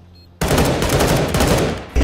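A loud, continuous burst of automatic rifle fire in CS:GO lasting about a second and a half, close and dense, followed by another shot starting at the end.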